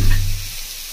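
Onions frying lightly in oil for a Bengali rohu fish dish, a brief close sizzle with a soft stirring sound that quickly drops to a quieter hiss.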